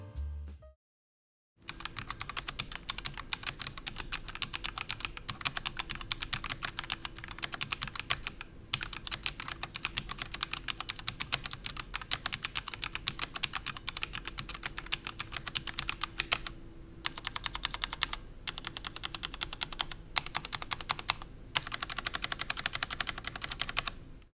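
Continuous fast typing on an NYK Nemesis Lasher full-size mechanical gaming keyboard fitted with linear Otemu Red switches, dense close clatter of keystrokes running steadily for over twenty seconds after a brief pause at the start, no voices.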